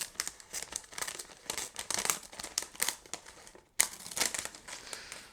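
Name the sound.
cutting open plastic packaging of a Bulbophyllum plant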